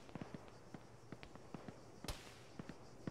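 Gunfire in the Arma 3 combat game crackles as sharp, scattered shots at varying distances, including one louder close crack, over a quiet background.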